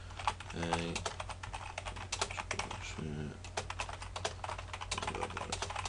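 Steady typing on a computer keyboard, many close key clicks in quick irregular runs with a low electrical hum beneath and no talk.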